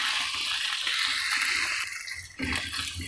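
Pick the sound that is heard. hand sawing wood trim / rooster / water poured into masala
water poured into masala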